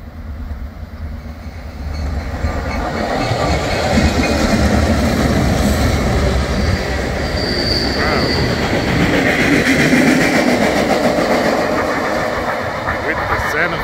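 A high-speed freight train with a duo of locomotives rounds a curve, rumbling steadily and growing louder, with the wheels squealing and clacking on the rails.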